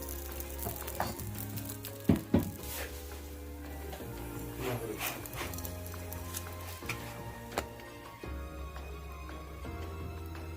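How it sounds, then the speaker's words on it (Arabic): A Moroccan batbout dough disc cooks in a frying pan with a soft continuous sizzle, punctuated by a few sharp clicks and taps from handling, close and fairly quiet. "ملي نبغيو نحطو هنا القرصه في الفراح ولا في المقله ديالتنا"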